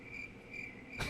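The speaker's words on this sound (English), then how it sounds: "I'm gonna play the crickets again." Cricket chirping sound effect played as a joke on a talk show, a steady high trill that runs alone and quietly throughout.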